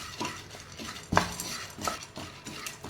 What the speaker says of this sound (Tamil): அடுப்பை லோ ஃப்ளேமில் வச்சுட்டு நீங்கள் இந்த மாதிரி ரோஸ்ட் பண்ணி எடுத்துக்கோங்க.